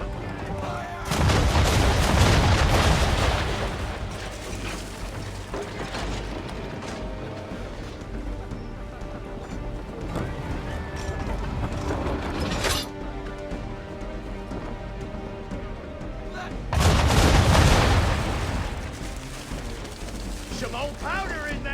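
Naval battle in Assassin's Creed 3 Remastered, with ship cannons firing at an enemy vessel's bow: two long, thunderous broadside volleys rumble at the start and near the end, plus a sharp single crack between, under steady battle ambience.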